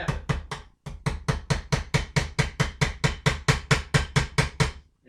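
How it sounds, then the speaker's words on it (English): A nylon punch lightly taps a gun part at a gunsmith's bench: about twenty crisp, close knocks in a steady quick rhythm, with one brief pause early on and no talking. "I'll just lightly tap it"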